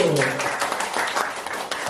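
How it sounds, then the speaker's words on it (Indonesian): Audience applause at a school staff gathering at an Indonesian state primary school, a steady wash of clapping filling the short stretch, with a voice briefly heard over it at the start. "Oke, kita kasih tepuk tangan Bapak Ibu."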